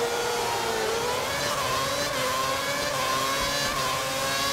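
Formula One race cars at the start of the Chinese Grand Prix at Shanghai in a video game, a steady, loud, droning whine of several engines throughout.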